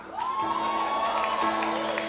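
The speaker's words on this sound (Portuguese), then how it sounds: "se é para aplaudir, aplauda Ele com alegria" A church congregation cheers and applauds in a continuous, fairly loud wash of crowd noise, with whoops over it and a sustained tone running underneath.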